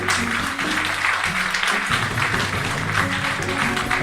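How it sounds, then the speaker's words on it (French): An audience at the 2007 Bordeaux Grand Prix chess final applauds continuously, a broad wash of clapping with steady tones playing underneath. "Donc je vous demande d'applaudir bien fort"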